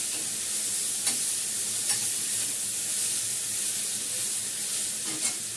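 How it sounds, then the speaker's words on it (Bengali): Curry being stir-fried in a pan with little oil, with green chillies added: a steady close sizzle runs throughout, broken by a few soft scrapes and clinks of the stirring spoon against the pan. "রান্না কষানো হয়ে গেছে, অনেক সুন্দরই কষাচ্ছি"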